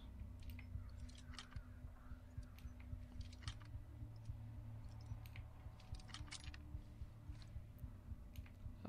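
Lock being forced open in the stealth game Thief: a quiet run of small clicks and metallic ticks, like a lockpick working, scattered over a steady low hum of background ambience.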